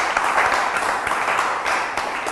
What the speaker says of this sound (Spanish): Un aplauso fuerte para Mónica.